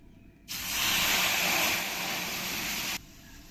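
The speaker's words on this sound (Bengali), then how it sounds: "এবার আমি জল দিয়ে দেব" Water poured onto hot fried mung lentils in a pan sets off a loud burst of sizzling hiss that holds for about two and a half seconds, then cuts off abruptly, with no talk.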